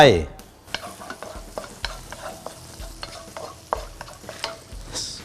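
Garlic sizzles and fries in camellia seed oil in a pan, with a steady crackle broken by sharp, regular stirring scrapes and knocks at close range.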